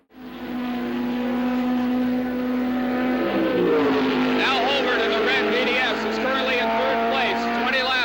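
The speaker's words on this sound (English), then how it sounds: "tires spinning, he returned to the race, accelerating through corner 1 and up the hill to corner 2" A VDS race car at Mosport pulls away after refuelling with its tires spinning, the engine loud and close as it revs and climbs through the gears, while someone narrates over it.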